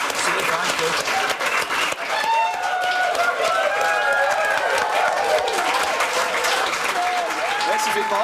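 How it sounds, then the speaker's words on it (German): A studio audience at a television cooking competition finale breaks into sustained, loud applause, a dense wash of clapping mixed with crowd noise and voices talking over it. "Der Applaus gehört euch."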